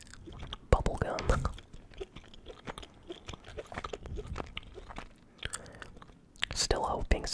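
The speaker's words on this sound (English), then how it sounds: "I'll just keep chewing some bubble gum" Bubble gum chewed close to the mic during a Fortnite match, with soft wet smacks and crunchy mouth clicks in an irregular rhythm, joined by brief whispered speech and light controller clicks.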